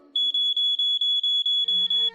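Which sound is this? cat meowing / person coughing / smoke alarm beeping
smoke alarm beeping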